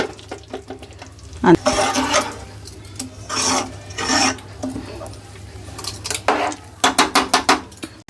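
Water goes into a pan of simmering masala brinjal curry, giving several loud hissing, sizzling bursts, with a spoon stirring and scraping against the pan between them and in a quick rhythmic run at the end.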